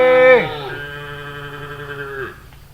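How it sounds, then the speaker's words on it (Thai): A single long, drawn-out cattle moo from a forest, rising then holding steady for about two seconds before fading, fairly close and clear with no talking. "ยังลืมวัวอยู่ตรงในป่าทางนู้นอีก นู่นได้ยินเสียงร้องแล้ว"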